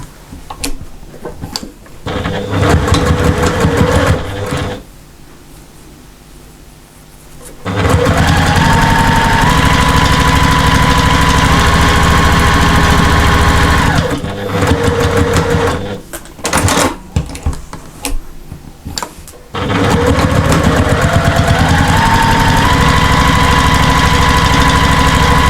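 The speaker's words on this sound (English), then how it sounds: "So now I've stitched both sides, I'm going to turn this through and top stitch as I did the same with the tabs." A sewing machine stitches fabric in several long, steady runs of fast whirring and clattering, close and loud, separated by short pauses and handling noises.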